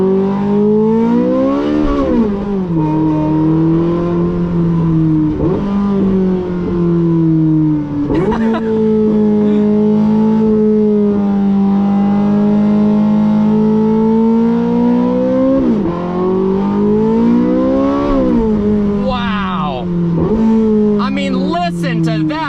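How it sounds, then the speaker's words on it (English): A Porsche 918 Spyder with a straight-piped V8 revving loud and close, holding a strong droning engine tone with several sharp rises and falls as the revs climb and drop through gear changes. "Straight piped V8. That is just absolutely ridiculous."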